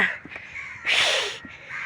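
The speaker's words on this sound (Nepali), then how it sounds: "यहाँ पुरै कागहरू उडिरहेछन्" Crows fly around overhead in Kathmandu, giving a few harsh, raspy caws, one long and loud, over quiet outdoor background.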